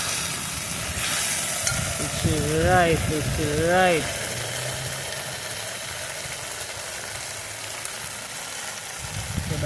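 Baked beans sizzle in a pot over a blazing outdoor fire during Jamaican outdoor cooking, a constant hiss throughout. A brief stretch of talking sits over it.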